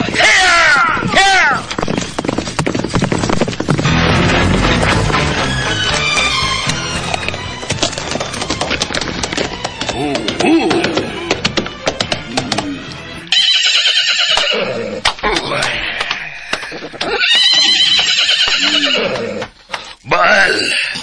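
A horse neighs loudly several times as a rider gallops off, its whinnies rising over clip-clopping hooves, with voices speaking and a dramatic score running beneath.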